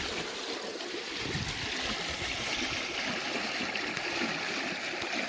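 Water rushes steadily and evenly through a Rubicon maxi flume irrigation gate rated at 30 megalitres a day, currently running at about 14.2 megalitres, with a continuous broadband wash and no pauses.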